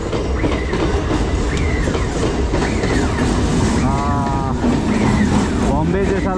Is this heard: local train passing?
yes